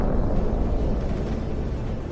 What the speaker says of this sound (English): After such an explosion, it can be said that nothing remains of the vehicle.